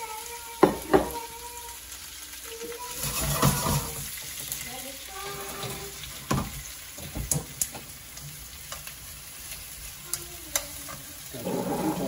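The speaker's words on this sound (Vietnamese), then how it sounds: "Cà chua cũng cho chiên đây" Tomatoes fry in hot oil in a pan during home cooking, giving a steady low sizzle with occasional stirring clatter and brief voices over it.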